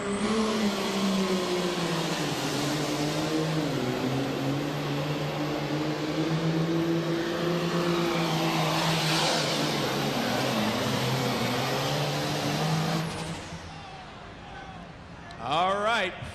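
The Fire and Ice super farm tractor from Syracuse, New York, roars at full throttle down the track at a 2004 indoor tractor pull in Louisville, a loud sustained engine drone that cuts off near the end, under an announcer's voice.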